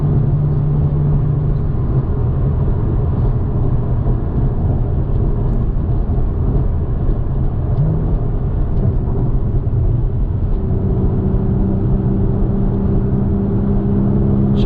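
A 2014 Porsche Boxster 981 with the 2.7 engine driving along a road, giving a steady low engine rumble with slight pitch changes as it shifts, heard from inside the cabin with no talk.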